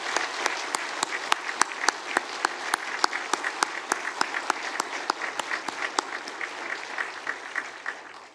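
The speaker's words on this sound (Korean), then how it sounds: "우리 다시 한번 박수를 했으면 좋겠습니다." A congregation at a church's 50th anniversary ceremony gives a sustained round of applause. Dense, crisp clapping fills a large room at a steady level and tapers off at the end.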